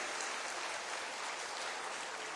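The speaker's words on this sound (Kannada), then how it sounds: "ನಾವೆಲ್ಲರೂ ಕೂಡ ಅವರಿಗೆ ಜೋರಾದ ಚಪ್ಪಾಳೆಯ ಮೂಲಕ ಅವರಿಗೆ ನಮ್ಮ ಧನ್ಯವಾದಗಳನ್ನು ಅರ್ಪಿಸ್ತಾ ಇದ್ದೀವಿ" Steady applause from an audience thanking Finance Minister Nirmala Sitharaman at a public event, a dense continuous wash of clapping with no voices on top.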